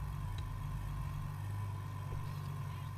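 Ferrari F355 engine in a racing video game holds a steady, loud idle with a low rumbling drone and a constant mid-range whine, with only slight fluctuations and no clear pops or burbles standing out.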